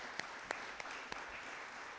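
Congregation applause at a church gathering, a soft continuous wash of clapping with a few sharper claps standing out, fairly distant and low in level.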